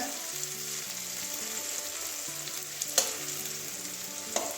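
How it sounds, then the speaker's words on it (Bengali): Potatoes frying in a pan give a soft, constant sizzle with a couple of sharp clinks of a utensil, while a faint melodic tune plays quietly in the background. "এবারে ঢাকনাটা খুলছি আমার আলুটা ভাজা হয়ে গেছে মনে হয়"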